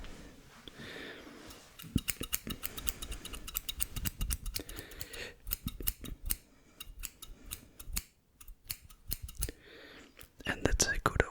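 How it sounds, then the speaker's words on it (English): Close, crisp scissors snipping in quick irregular runs of sharp clicks, some bursts rapid and others spaced, with soft whispering in a quiet ASMR setting. "So here the first trick I'm gonna do is just some snips."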